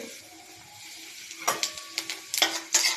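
Black cumin seeds dropped into hot oil in a heated wok, a quiet hiss that bursts into louder crackling sizzles with stirring scrapes in the last half.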